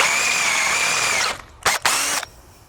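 A Dremel rotary tool whines loudly and steadily at high speed, cuts out, then gives two short bursts close by, with no talking.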